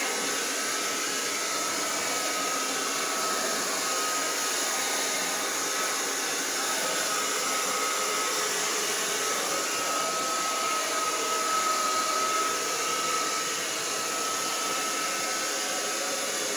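Hair dryer blowing steadily on a windowsill to heat it before shrinking plastic window film, a constant close whooshing roar with no pauses, alone and uninterrupted throughout.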